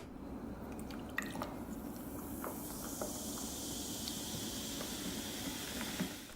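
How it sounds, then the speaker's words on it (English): Orangina poured into a glass, a steady fizzing hiss with scattered small drips and bubble pops, close and fairly quiet, with no voices. "let's pour us some Orangina"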